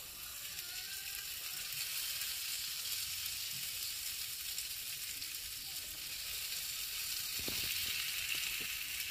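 Egg-coated cabbage sizzles in hot oil on a tawa, a steady close hiss of frying with a few soft scraping and stirring knocks near the end.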